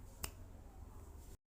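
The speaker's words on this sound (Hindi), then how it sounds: "चुटकी बजाऊंगा और देखना कहाँ पे पहुँच जाता हूँ मैं" A single sharp finger snap rings out near the start, clear and close, over a steady low background hum that cuts off abruptly at the end.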